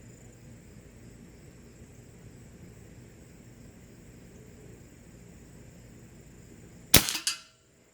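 Umarex Gauntlet 2 air rifle firing outdoors, a sharp close crack after a long quiet stretch of background hiss, followed by a second fainter report.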